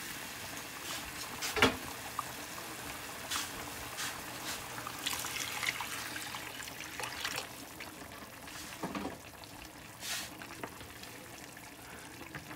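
Rice and salsa in a pot after water is added, a quiet simmering bubble with soft trickling and occasional pops and clinks, close and fairly faint, no talking.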